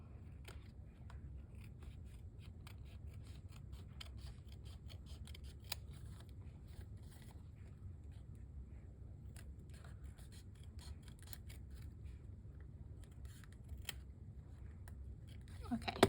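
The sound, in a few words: scissors trimming a woven journal cover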